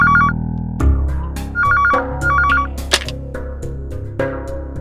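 A telephone rings in short repeated electronic trill bursts, loud and close, over a busy low-pitched background of music and other noise.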